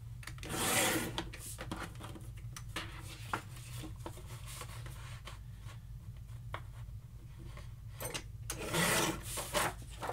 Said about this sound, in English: So I think I'm going to cut the branding strip off